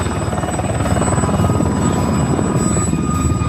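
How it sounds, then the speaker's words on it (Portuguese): A helicopter in flight, a loud steady rotor chop with a dense engine whine running continuously close by, no voices over it. "O helicóptero é o veículo voador mais versátil jamais inventado"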